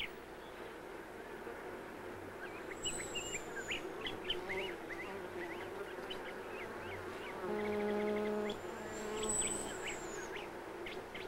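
Wild honeybees and native bees buzz among flowering plants, a soft continuous hum with rising and falling tones, fairly faint, joined briefly by a high bird call.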